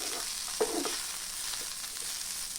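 Garlic and white sesame seeds fry in a pan for a long-bean stir-fry, giving a soft, steady sizzling hiss with a couple of brief stirring clinks, fairly quiet throughout.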